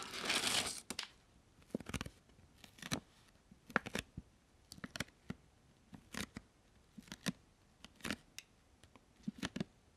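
Crinkly plastic coffee packet being handled close up, a burst of rustling at first, then a series of short crackles and rustles at irregular intervals.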